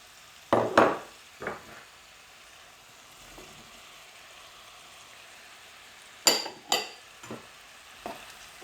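Red and green peppers cooking in a pan for stuffed batbout, heard as sparse stirring and utensil knocks against the pan with a few short bursts and quiet gaps between them; no one speaks.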